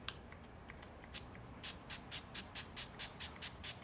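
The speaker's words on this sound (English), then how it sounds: "you want to spray very generously, very" Quick pumps of a facial mist booster spray bottle, about a dozen short misting bursts in an even rhythm, close and fairly quiet.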